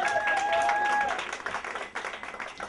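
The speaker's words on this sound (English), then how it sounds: "Can I get a clap?" An audience claps at a comedy show after a prompt from the performer, dense clapping that begins over a held electronic tone and then thins into looser, uneven claps.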